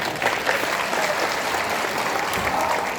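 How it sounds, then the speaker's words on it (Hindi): An audience claps for itself at a gathering, a steady dense wash of applause filling the space at close range with no voices on top. "चलिए तालियां बजा दीजिए अपने लिए।"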